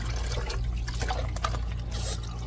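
Water trickles and drips steadily as fresh vegetables, apparently from Baguio, soak in a basin at home, with a low hum underneath and faint splashes throughout.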